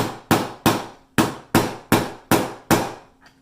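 A hammer taps a pin into a Glock pistol frame with eight sharp, close, evenly spaced metallic strikes, each ringing briefly before the next, and no talking.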